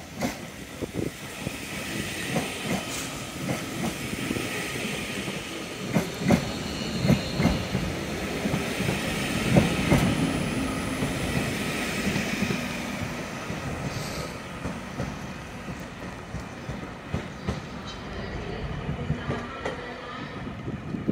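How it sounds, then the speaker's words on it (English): A Class 331 Northern electric train at Manchester Piccadilly station rumbles steadily on the rails, with rhythmic wheel clicks and faint squeals over a continuous loud roar. "It's a class 331 Northern Service to Crewe."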